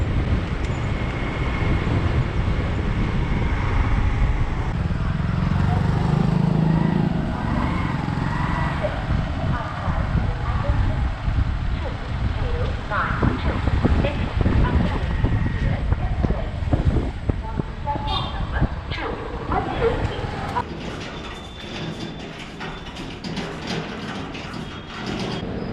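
Train running from Amravati to Bhusawal in India, with a loud, continuous rumble and rattle of wheels and carriage, clanking and jolts growing denser toward the end, heard from inside the moving coach.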